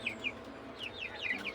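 Soft, close clucks and small chirping calls from nearly month-old chickens in quick irregular bursts over a faint background hum from an electric fan.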